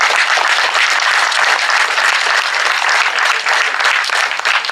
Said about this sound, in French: je crois qu'on peut tous l'applaudir d'être avec nous ce soir